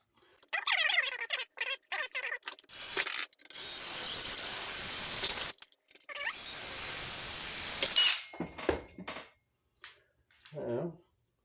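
Power drill boring into a pressed steel toy truck, short whirring bursts broken by two longer sustained grinding runs, with clicks and handling noises between them, fairly close.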